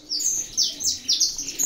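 Saffron finches chirp and call repeatedly in a breeding aviary, a lively run of bright, high tweets in quick overlapping bursts, fairly close and steady throughout.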